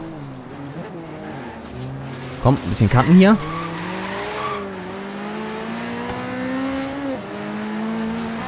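Race car engine hum from an old Pininfarina-designed Le Mans Ferrari P4 in Forza Horizon 3, droning steadily with a short burst of tire squeal and revving midway, under continuous talk.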